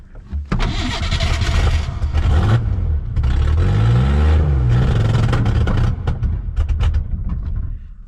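Ford Bronco II engine cranking and catching after fuel is added: loud close starter churn, a brief stumbling start, then rough revving that sputters and fades, with no talking.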